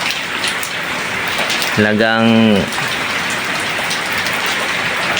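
Heavy rain pours steadily outdoors, a dense hiss of drops on surfaces throughout, briefly overlaid by a single short spoken word near the middle.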